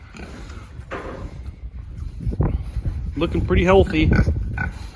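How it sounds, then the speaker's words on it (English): Pigs on a small recreational farm in Wisconsin, grunting and snuffling close by, with a louder squeal-like burst near the end, under a voice speaking. "Here's the pigs."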